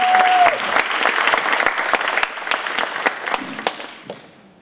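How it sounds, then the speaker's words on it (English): An audience claps in a steady, dense burst of applause at a day-long equity and mental health event, starting loud and gradually thinning out and fading toward the end. "Can we get another round of applause?"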